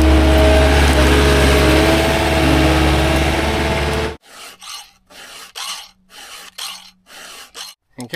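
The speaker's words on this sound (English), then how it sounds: "you notice when I'm sharpening, I'll push harder, but then you just barely hear me drag it backwards" Blade sharpened with a hand file outdoors near an excavator, first a steady rasping scrape over a running engine, then distinct close file strokes in an uneven rhythm, each hard push followed by a lighter return.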